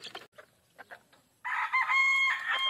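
A tethered rooster crows in a backyard, one loud sustained crow close by, preceded by brief clucking sounds.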